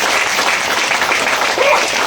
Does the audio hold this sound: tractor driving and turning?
no